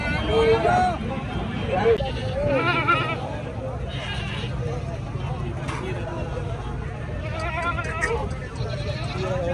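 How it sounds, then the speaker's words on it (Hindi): A male goat bleats several times amid background chatter and outdoor crowd noise, the calls rising and falling over the murmur. "ये वाला कितना खूबसूरत तरीन बकरा"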